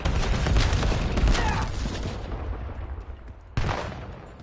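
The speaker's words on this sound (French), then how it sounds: "Je balance une grenade à dispersion!" In Black Ops 7, a cluster grenade bursts and gunfire follows: a dense run of booms and shots, then a brief lull before one more sharp blast near the end, loud and close.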